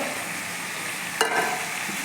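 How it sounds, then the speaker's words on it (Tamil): Whole brinjal sautéing in a pan for an egg tamarind curry hisses softly and steadily, with one brief sharp scrape or clatter of a spoon midway, heard close up and without talk. "இப்போ கத்திரிக்காய் வதங்கட்டும்"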